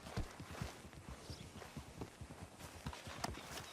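A horse walks at a steady pace in Red Dead Redemption 2, its hooves clip-clopping in an even rhythm, close and moderately quiet.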